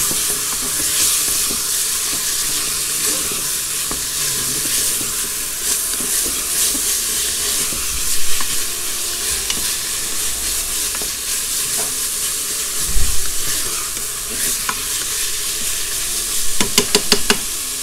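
Meat browning with salt and pepper in a pan, a loud, constant sizzle and hiss with scraping stirs and occasional knocks of the utensil, close up and uninterrupted.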